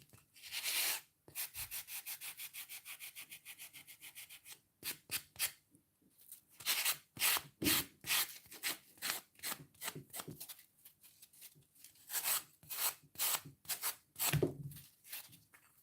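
Sanding pad rubbing over a decoupage piece in bursts of quick back-and-forth strokes, close and crisp, with short pauses between sets.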